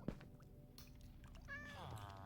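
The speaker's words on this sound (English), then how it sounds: "what's with the cats here in the center?" Several cats meow faintly on a drip farm, with one drawn-out wavering meow rising near the end over low background noise.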